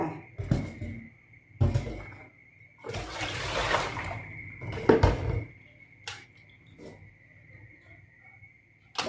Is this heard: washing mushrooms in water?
yes